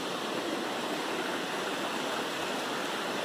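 Creek water and a waterfall pour in a steady, dense rush beside a bridge on a Vermont hiking trail, loud and unbroken with no voices.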